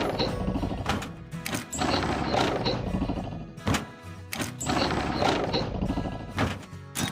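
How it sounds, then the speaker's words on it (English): A shredder is taken apart in the Trucks and Cars Repair video game, producing continuous ratcheting and gear-like mechanical clicking, loud and close, with brief pauses and thunks between bursts and no speech. "Now let's disassemble the shredder."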